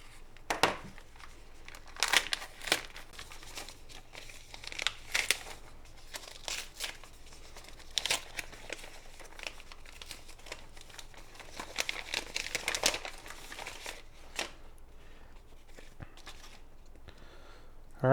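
Crinkling and tearing of CD mailer packaging being cut open, in irregular bursts of rustling and snipping close by.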